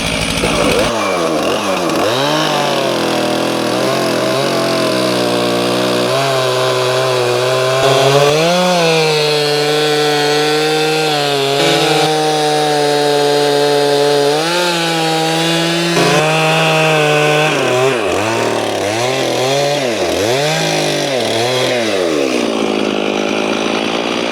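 A Stihl MS391 chainsaw roars close by, its engine rising and falling in pitch as it bites into wood, revving steadily throughout with no talking.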